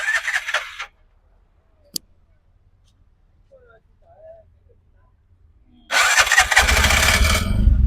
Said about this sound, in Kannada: ಈಗ ಗಾಡಿನ ಸ್ಟಾರ್ಟ್ ಮಾಡ್ತಿದ್ದಾರೆ